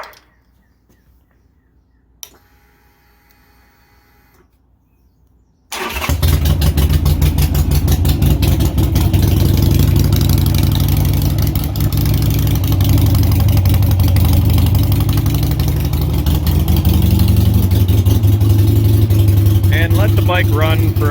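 A Harley-Davidson Sportster Iron 883 motorcycle fires up after a few quiet seconds and a brief click, then settles into a loud, steady, throbbing idle close by that continues to the end.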